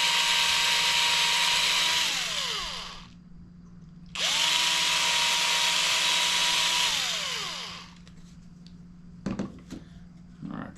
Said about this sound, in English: With thin plastic you can just get it running and push on your drill